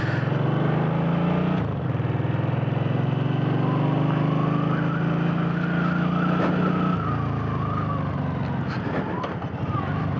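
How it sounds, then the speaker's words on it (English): A Suzuki M50 motorcycle engine braking hard, its exhaust note winding down and popping as revs fall, then a brief throttle change and steady close engine drone with faint voice. "compression braking great"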